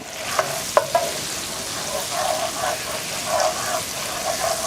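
Garlic frying in oil in a pan, a close, lively sizzle with a couple of sharp utensil clicks early on, then crackling bursts that come and go.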